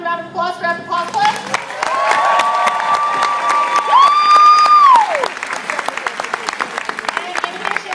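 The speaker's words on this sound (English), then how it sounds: "So everyone, round of applause for Epic Cosplay." A convention audience at the MomoCon 2014 cosplay craftsmanship competition breaks into a sustained round of applause, dense clapping filling the room with a few cheers and a rising whistle, after a brief voice from the stage at the start.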